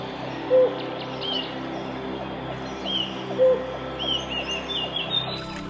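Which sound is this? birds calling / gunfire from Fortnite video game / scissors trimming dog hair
birds calling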